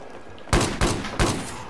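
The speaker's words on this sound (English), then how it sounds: "There's a guy with a shotgun or something here." Three loud, booming shotgun blasts from Battlefield 4, spaced roughly a third of a second apart, each with a short rumbling tail, after a quiet moment.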